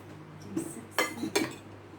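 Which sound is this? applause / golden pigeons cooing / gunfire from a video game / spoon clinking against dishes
spoon clinking against dishes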